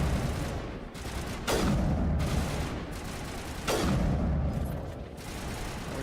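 Gunfire in Mass Effect: two sharp loud blasts a couple of seconds apart, each with a booming decay, over a dense rattle of continuous weapon fire and mechanical clatter.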